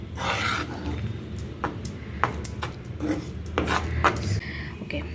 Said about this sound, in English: Keep stirring it